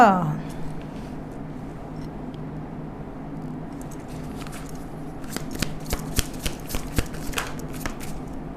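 Tarot cards are shuffled and flicked in a rapid run of crisp riffling snaps close by, growing busier toward the end over a steady low background hum.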